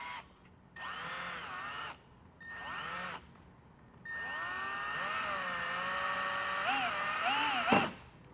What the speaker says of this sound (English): I'm gonna go ahead and drill a hole right here.